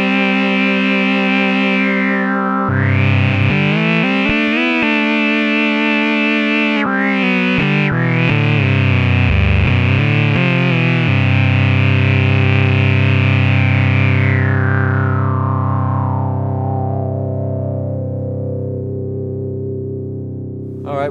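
A buzzy, distorted analog modular synth sawtooth tone with LFO sine vibrato plays sustained notes with a wobbling vibrato, then slowly fades as the sound darkens.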